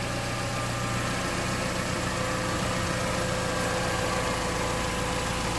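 A 1999 Mercedes SLK 230 Kompressor engine idles steadily nearby from cold, a smooth constant rumble with a faint mechanical hum, no knocking and no voices.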